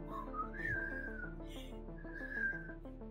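A man whistles a wavering, eerie melody to imitate a murder-trial witness who whistled on the stand, the tones sliding up and down over a steady low hum.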